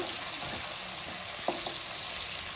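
Mint leaves stirred into fried onions in a pot for mutton biryani, producing a soft, steady sizzle with a couple of faint spoon scrapes, quiet and close, with no talking.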